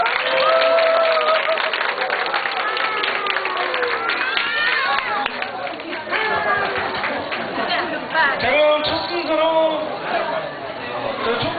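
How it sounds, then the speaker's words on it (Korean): Guests at a Korean first birthday party clap and cheer during the cake-cutting, a steady crowd of applause mixed with lively chatter and voices throughout. "박수 한번 쳐주세요."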